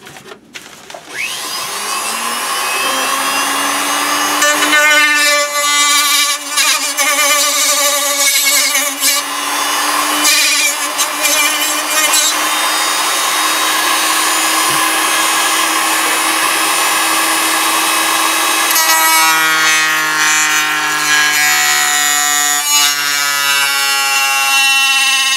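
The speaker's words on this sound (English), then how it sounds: "I'm doing that with my cutoff wheel." A cutoff wheel on a rotary tool slotting openings in a Star Wars B-Wing pilot helmet prop, a loud, sustained high-pitched whine with a grinding edge that holds steady for the whole stretch and shifts pitch slightly near the end.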